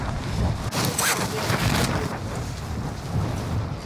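A video game thunderstorm rumbles with broad, steady noise and a louder crack of thunder about a second in, with rain-like hiss throughout.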